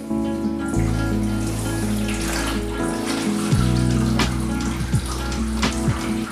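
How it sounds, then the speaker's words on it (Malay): Water pours steadily into the 28-litre tank of a Doctor Air AC-07 evaporative cooler fan, a continuous close splashing and gurgling that runs throughout with no talk. "Jadi saya dah isi air dalam tangki 28 liter tu"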